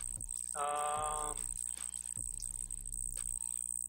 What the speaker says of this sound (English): It's the crickets, bad crickets in the garage.